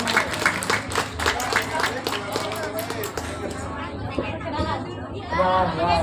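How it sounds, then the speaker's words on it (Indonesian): Rapid audience clapping at an Indonesian documentary film festival fades after a few seconds into chatter, with voices talking and murmuring afterward. "Tepuk tangan"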